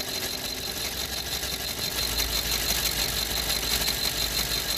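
A BMW car engine with a faulty piezo injector idles steadily close by, a constant mechanical rumble with a vibrating, slightly rattly texture and a faint high whine above it.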